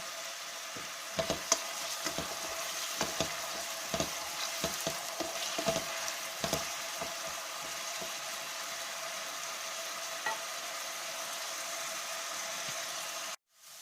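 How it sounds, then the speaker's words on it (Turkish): Leeks and carrot sizzle steadily in a hot pan up close, with intermittent scraping and clicking of a utensil stirring them. "Bir iki dakika kavurdum."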